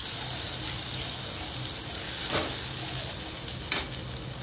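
Ground masala paste for misal sizzles in hot oil, a soft, steady hiss with a couple of brief clacks from the utensil, heard close and without speech.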